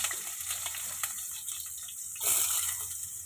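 Chopped onion goes into hot cooking oil, giving a steady, close frying sizzle that swells into a louder, brighter hiss for the last second.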